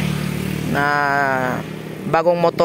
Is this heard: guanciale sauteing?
no